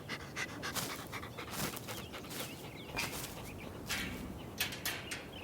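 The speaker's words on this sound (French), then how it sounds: "Nova, la chienne berger australienne, gardienne des lieux, nous accueille" An Australian Shepherd pants steadily up close, quick rhythmic breaths with faint bird chatter in the background, outdoors on a farm.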